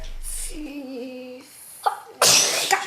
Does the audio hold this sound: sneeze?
yes